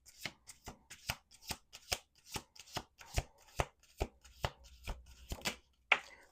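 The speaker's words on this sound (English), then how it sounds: "Last shuffle." Tarot cards are shuffled in quick, crisp riffles and slaps, about a dozen sharp bursts in a steady rhythm, close and quiet, with no voices.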